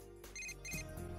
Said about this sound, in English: my phone's ringing